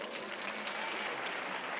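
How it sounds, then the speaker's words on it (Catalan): An audience claps briefly after a Valencian Falles proclamation speech, a soft, fairly distant patter of many hands that stays even throughout. "no una ovació, sols un aplaudiment"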